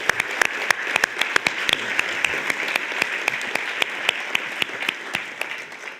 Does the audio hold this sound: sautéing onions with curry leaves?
no